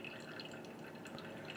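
Brewed coffee drains through the three holes of a flat-bottomed Kalita Wave dripper, a soft, steady trickle of dripping liquid heard faintly and alone.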